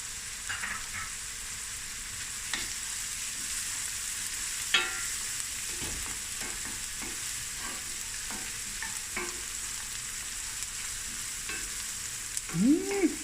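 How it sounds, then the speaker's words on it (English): Mussel curry base with crushed chilies frying in a pan, a steady broadband sizzle throughout with occasional utensil scrapes and clinks, a louder scrape near the end, no talking. "now I'm going to just let this fry for about 5 to 10 minutes"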